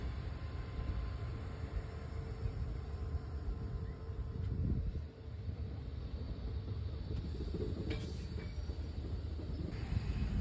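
The Tutari Express rumbles steadily along the tracks, a continuous low roar with faint clatter throughout, heard from inside or close by.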